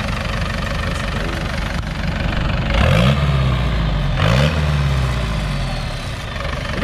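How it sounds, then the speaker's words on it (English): Diesel engine at a car meet, rumbling at idle before two sharp revs rise and fall back, loud and close. "We got the diesel out here."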